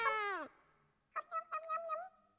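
Cartoon cat meowing in the video game Catie in MeowmeowLand: one long falling meow, then a quick string of four or five short bright meows, loud and close, with no talk over them.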